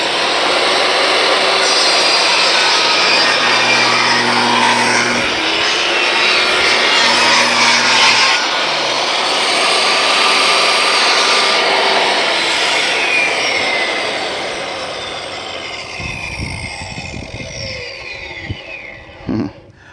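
A table saw rips through wood on a square cut, a loud continuous whining roar that holds for most of the stretch, then the blade spins down while scattered clunks and handling noises follow.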